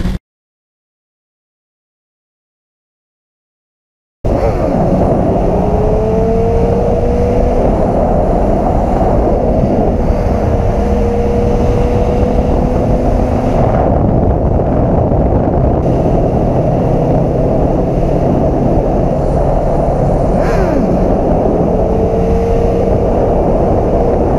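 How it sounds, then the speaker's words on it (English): A 2017 Suzuki GSXR1000 motorcycle engine drones loud and close while being ridden during wheelies, holding a steady rough roar with shifting pitch after a few seconds of silence at the start. "Popping wheelies on my bike"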